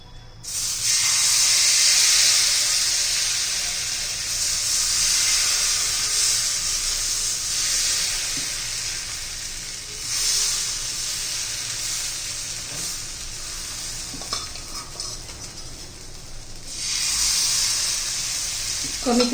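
A Vidarbha-style spring onion aayte pancake fries in a little oil on a pan, giving a loud, steady sizzle and hiss that swells and eases over the length of the clip, with no voices heard.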